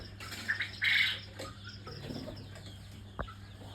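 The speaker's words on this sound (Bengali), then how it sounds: "আর এই যে আমাদের র্যাকে 50টার মতো দেশি মুরগি আপাতত আছে।" Native chickens on a farm rack, about fifty birds, give soft clucks and chirps through a low steady hum, with a brighter burst of calls near the start and a short sharp knock toward the end.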